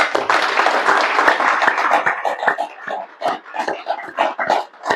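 Audience clapping at the opening of a five-day spiritual camp program in Sambhajinagar, Maharashtra; a dense, loud burst of hand claps that thins into scattered, uneven claps toward the end.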